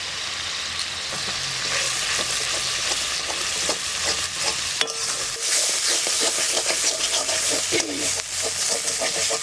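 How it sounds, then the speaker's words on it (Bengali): Cumin, coriander, chilli, turmeric and salt frying and being stirred in a pan for a river prawn curry, a loud dense crackling sizzle with constant scraping, briefly dipping midway. "এবার ভালো করে নাড়াচাড়া দিয়ে নেব"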